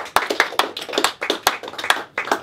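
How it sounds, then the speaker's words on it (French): Audience at a dinner debate at Le Procope in Paris clapping by hand, a small group's claps in an uneven close patter that swells and thins over a couple of seconds. "Arrêtez d'applaudir, je sais plus savoir où me mettre."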